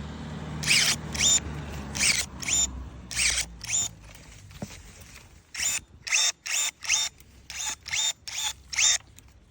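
INGCO CSSLI20308 cordless pruning shears snip through thick branches in a quick run of sharp motorized cuts, each a short whirring chop. The cuts come in clusters with brief pauses between them, loud and close.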